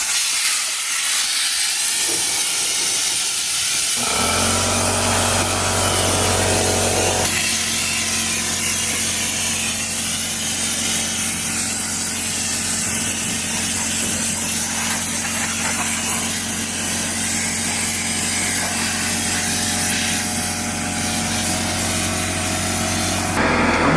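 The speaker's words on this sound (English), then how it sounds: "Blow this out so it doesn't get on fire when I start welding." Compressed air blasts dust out of a spot before welding, a loud, continuous close hiss that starts after a brief rustle and holds steady to the end, with no voices.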